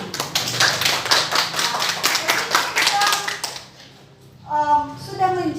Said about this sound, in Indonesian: beri semangat dan aplaus untuk semua yang sudah berdiskusi di hari ini